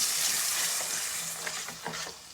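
Ground masala for a chole curry frying in a hot pan, a steady bright sizzle with a few soft stirring scrapes near the end, fairly quiet and close, no talking.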